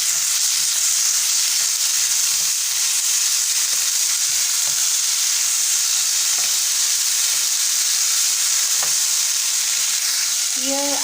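Vegetables and vermicelli pulao with carrot and salt frying in a pan, a steady loud sizzle throughout with faint stirring scrapes and a few light clinks near the end.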